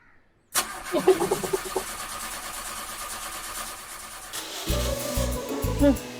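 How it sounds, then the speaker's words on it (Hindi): A car engine cranks after trouble starting and catches into a running idle. Voices are heard alongside, and the engine sound continues steadily to the end. "हो गई गाड़ी स्टार्ट"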